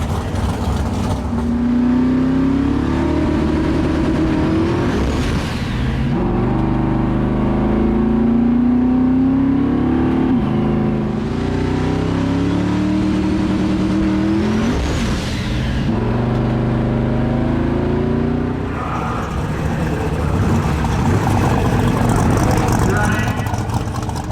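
Boosted drag car accelerating at Midwest Drag Week, a loud engine roar rising in pitch through repeated surges over the full stretch, heard from the track side with voices mixed in.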